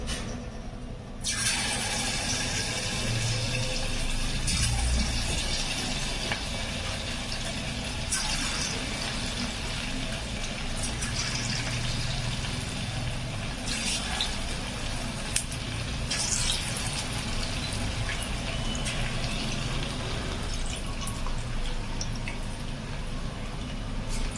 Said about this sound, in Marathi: तेल आता आपलं गरम झालेलं आहे तर आपण आता हे जे आहे ते एक एक टाकून घेऊ